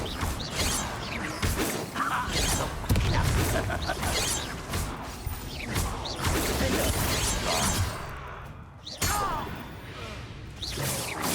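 Confringo fire spell cast during combat in Hogwarts Legacy, bursts of whooshing, crackling impacts and crashes amid a busy, loud fight with dense clattering effects, continuous and close throughout.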